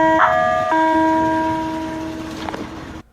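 A loud electronic custom car horn plays a sustained, tuneful ice cream truck jingle, shifting between a few notes before cutting off abruptly.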